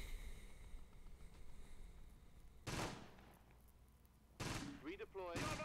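Gunfire in the war strategy game Close Combat: Battle for Caen, several loud sharp bursts breaking in after a quiet low rumble, then more volleys and a short rattling burst near the end.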